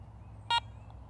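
A Garrett Ace 400i metal detector gives a single short, clear electronic power-on beep that lasts about a tenth of a second over a quiet background hum.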